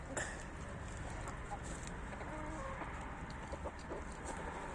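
Chickens clucking softly at a moderate distance over a steady background hum, with short irregular calls scattered throughout.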